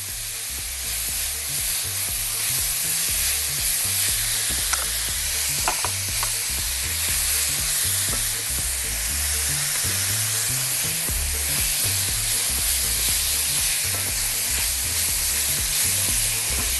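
Onion, garlic and fresh ginger fry in a pot with a loud, continuous sizzle and faint stirring clatter, steady throughout with no speech.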